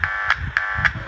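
A test signal from the tweeter of a Huper 15HA400 speaker gives a harsh, buzzy electronic tone that pulses in four short repeated bursts, loud and close.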